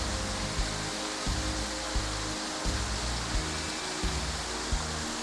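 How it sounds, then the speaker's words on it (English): A multiple cascade waterfall rushes steadily close by, a dense, unbroken roar of falling water with slight surges in the low rumble and no voices. "Look at this amazing multiple cascade waterfall"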